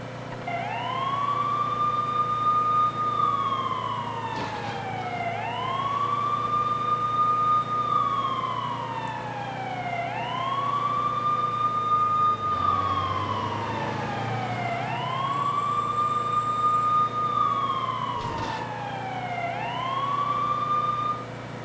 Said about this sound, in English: There's no point in having the siren on.